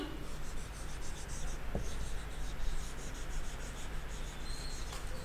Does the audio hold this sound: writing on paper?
yes